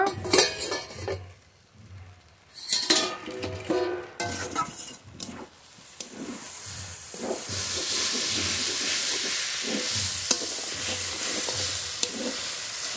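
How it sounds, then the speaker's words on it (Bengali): Kolmi greens sizzle and hiss in a hot pan in a village kitchen, with repeated scraping and clanking from the stirring utensil. The frying grows into a steady, loud sizzle. "এবার নেড়ে নেড়ে খুব ভালো করে ভেজে নেব"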